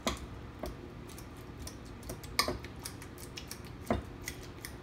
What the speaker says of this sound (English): Wonderful sound of mashing avocados.